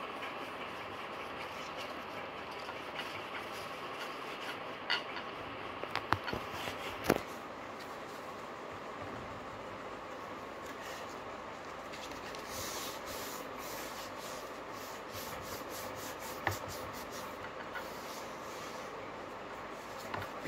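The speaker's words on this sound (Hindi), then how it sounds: "इसको अच्छे से रगड़ के साफ करती हूँ" Paper rubbed firmly back and forth across the scorched soleplate of a burnt clothes iron, giving a steady, close scratchy scrubbing that runs continuously for about twenty seconds with a few small knocks.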